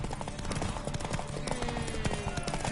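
Horse hooves gallop fast during a race in The Witcher 3 video game, a dense, rapid clatter of hoofbeats under crowd noise and music.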